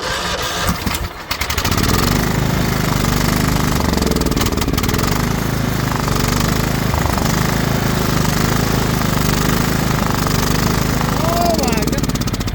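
Craftsman LT2000 lawn tractor engine cranking and then running steadily at close range, a loud continuous chugging drone with a brief clatter as it starts; a voice speaks over it.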